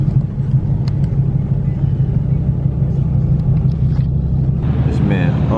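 A BMW E36 engine rumbles steadily and loud at a Mexican race night, a continuous low drone with crowd noise and voices talking over it, and a brief higher whine rising near the end.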